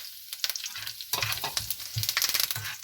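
Curry leaves fry in hot oil in a pan for an instant chutney mix, crackling and sizzling in sharp bursts while being stirred, close and vivid.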